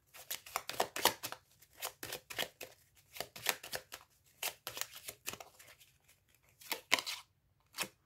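Tarot cards are laid down over the deck in quick, crisp slaps and soft rustles, irregular bursts of close, faint card handling separated by brief pauses.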